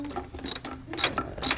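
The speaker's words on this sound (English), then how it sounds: "The instructions from VRSF also say to tighten these clamps as tight as possible" A ratchet tightens hose clamps during a BMW N54 intercooler install, clicking in three quick, sharp bursts, close and crisp, with no voices.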